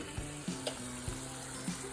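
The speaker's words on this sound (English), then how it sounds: "Now I hear the sizzle." Food fries quietly in a pan with a soft, steady sizzle and a few light stirring clicks underneath.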